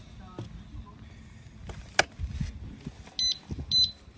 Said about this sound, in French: l'alarme sonne